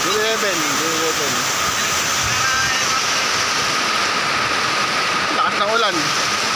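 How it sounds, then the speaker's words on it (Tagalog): Heavy rain pours steadily during a motorcycle ride at Dingalan, a dense continuous wash of water noise from start to finish, with people talking briefly over it near the beginning and end. "Lakas ng ulan."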